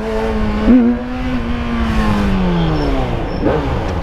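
A Yamaha XJ6 motorcycle engine revs hard toward the rev limiter near a school: a loud, steady, buzzing tone climbs, holds and sags over four seconds, with a brief sharp blip early on. No one speaks.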